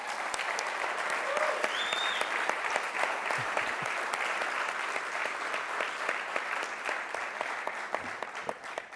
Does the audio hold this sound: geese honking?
no